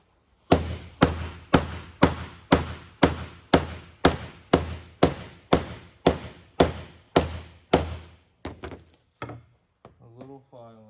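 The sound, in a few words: pounding on a board with holes to fit linkage bearing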